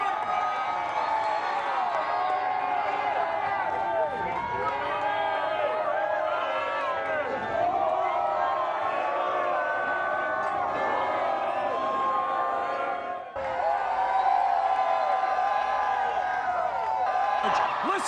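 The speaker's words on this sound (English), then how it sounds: "Listen to the crowd just coming alive." Large crowd cheering and roaring continuously at a 2018 Golden State Warriors NBA championship parade, a dense outdoor wash of whoops and shouts with talk mixed in throughout.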